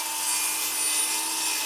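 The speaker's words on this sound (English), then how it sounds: "So we'll fire up the trusty miter saw and cut those to length." A continuous harsh, high-pitched whine and rasp of a miter saw cutting wood to length, loud and close throughout.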